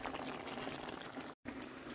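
Mussel curry simmers in a covered pot, giving a close, steady bubbling and gurgling with a brief dropout midway. Soft and continuous throughout.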